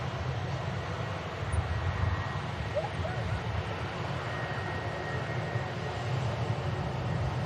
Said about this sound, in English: 757, next to depart back to Reykjavik. Boeing 757-200, Tango Fox, Foxtrot India Kilo.